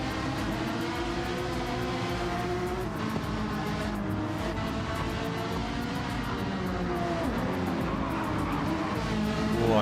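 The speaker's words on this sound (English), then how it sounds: "I'm hearing a lot of tyre squeal going on," Race cars lapping the Nürburgring Nordschleife in a racing video game, with a loud, continuous engine roar and a steady wash of tyre squeal throughout, dense and unbroken with no talk over it.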